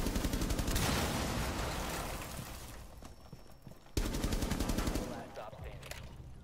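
Rapid video game gunfire in a hostage-round shootout, dense bursts of close, loud shots rattling for several seconds, then a brief lull and a sharp new volley, with players talking underneath.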